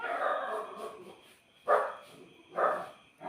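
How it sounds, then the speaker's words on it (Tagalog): A dog barks repeatedly nearby, a few loud separate barks spaced about a second apart. "pasensya na po sa ingay ng aso ko"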